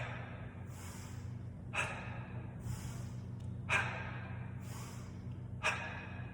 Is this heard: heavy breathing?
yes